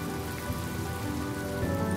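Steady rain pours down in the video game Honkai Star Rail, a dense, even hiss of drops hitting surfaces that fills the whole stretch without pause, close and constant, with no voices.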